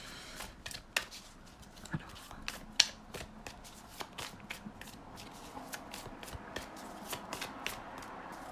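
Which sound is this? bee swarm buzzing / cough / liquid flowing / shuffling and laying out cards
shuffling and laying out cards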